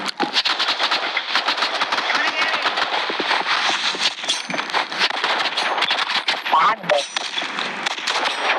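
Rapid, dense gunfire from a Roblox Rivals match, continuous sharp shots with a video-game feel, mixed under game effects and voices talking throughout.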